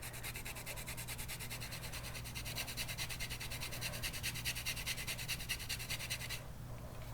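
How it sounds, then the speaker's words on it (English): Lime zest is grated in steady, rhythmic strokes, a soft, close scraping rasp repeating evenly for several seconds before stopping. "if you really want some good flavor, add just a little bit of the zest of lime."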